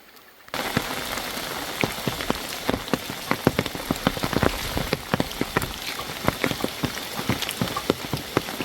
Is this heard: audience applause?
no